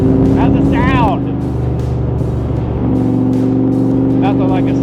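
A 1965 Superformance Shelby 427 Cobra with a Roush 550HP engine and side pipes rumbles loudly while driving, its deep exhaust note rising and falling with throttle, and someone talks over it.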